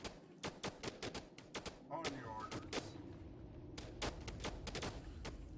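Soldiers' gunfire in the real-time strategy game They Are Billions, rendered as dense repeated shot bursts in an irregular rhythm, loud and close, with a brief pause and chatter-like tones in the middle.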